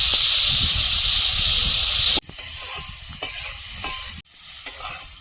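Onion, tomato and green chilli fry with dried shrimp in a pan, a loud steady hissing sizzle that suddenly drops quieter, then continues with intermittent stirring scrapes and soft crackles, no voices.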